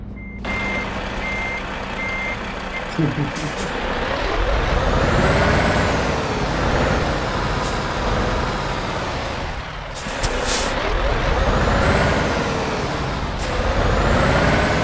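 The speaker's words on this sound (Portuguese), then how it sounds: "Cara, seu caminhão tá muito louco." A truck's reversing alarm beeps steadily while air brakes hiss and release in loud bursts, the engine rumbling underneath, close by and with no talk.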